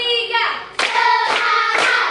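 Three crisp group claps in an ice-breaking clapping game in a classroom, evenly spaced about half a second apart and loud and close, overlapping sustained voices.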